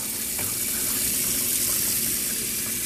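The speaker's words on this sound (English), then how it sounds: "Fill this thing with water as far as it can go." Tap water pours steadily into a Shark Navigator NV22L vacuum canister with a constant rushing hiss, close by, with no one speaking.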